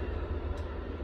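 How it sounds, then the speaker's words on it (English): A passing train rumbles low and steady, a continuous heavy roll close by with no pauses. "Hear that? That's a train."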